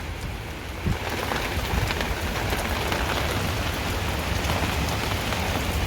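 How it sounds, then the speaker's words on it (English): Steady rain pattering on surfaces with a low, rumbling roll of thunder blended into the downpour, no voices. "what you hear in the background is actually thunder"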